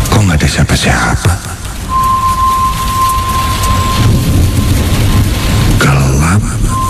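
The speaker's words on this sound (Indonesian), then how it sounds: "ditambah hujan deras sedang turun." Heavy rain and rolling thunder as a sound effect in an Indonesian radio horror drama, a dense loud downpour with low rumbles, running under a speaking voice with a thin tone drifting through.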